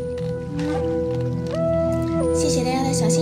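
Guzheng melody played live during a livestream performance of the song 'Hua Qiao Liu Shui', with sustained, shifting tones and a few plucked onsets over a steady backing.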